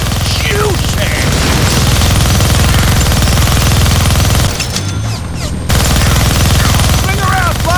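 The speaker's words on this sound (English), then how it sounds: "Gonna need both hands to shoot that minigun." Minigun in the Deadpool video game roaring in long continuous bursts of rapid fire, loud and close, with a brief drop around the middle before the firing resumes, plus scattered game effects and faint voices.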